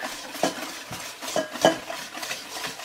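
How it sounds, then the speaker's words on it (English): A whisk beats eggs in a bowl, giving soft irregular scraping and clinking strokes, close and fairly quiet, with no talk. "now get the whisk and we're gonna whisk away the evening"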